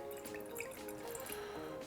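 Wine is poured from a tilted bottle into a glass in a home kitchen, making a soft, faint trickle with small drips and splashes that continue steadily without talk.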